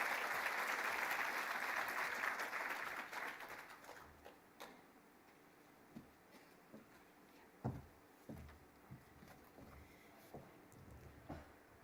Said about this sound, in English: Let's please give her another round of applause